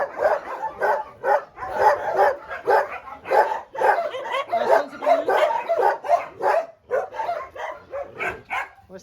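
Several Laika hunting dogs, including Estonian Laikas, bark and yip repeatedly in a dense, overlapping chorus, close and fairly loud, with a few whimpers mixed in.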